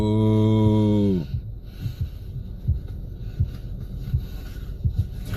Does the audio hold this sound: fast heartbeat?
yes